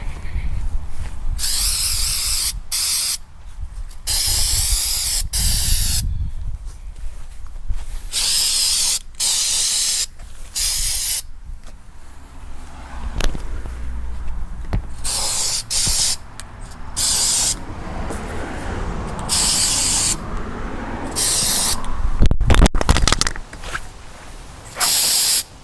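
Textured spray paint hisses loudly onto desert tabletop terrain in long, near bursts broken by short pauses and rattles of the can, continuing for a long stretch.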